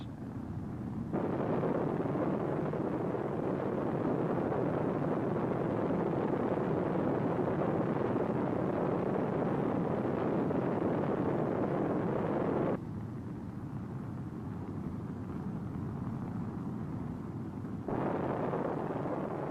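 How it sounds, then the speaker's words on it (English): Atlas launch vehicle booster and sustainer engines igniting at liftoff for the Gemini VIII mission, a loud continuous broadband roar that rumbles on with a brief drop in intensity before surging again, with no talk. "the Atlas launch vehicle ignites"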